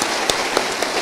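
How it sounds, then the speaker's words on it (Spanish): A church congregation at a Spanish-language service applauds, a dense, loud wash of many hands clapping together that fills the whole short moment. "Dale un aplauso al Señor."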